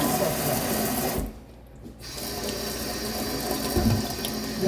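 An egg basket is rinsed under a running farm tap, a steady broadband rush of water that briefly drops away near the middle before resuming just as loud.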